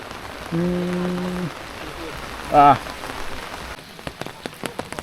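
Steady rain falls on surfaces in rural Laos, a constant hiss with a couple of brief tonal calls partway through and sharp close drips toward the end.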